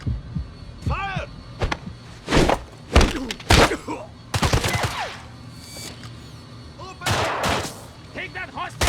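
Gunfire from the James Bond 007: Blood Stone video game, with loud bursts of shots and heavy impacts scattered irregularly across the clip against a busy background of game effects.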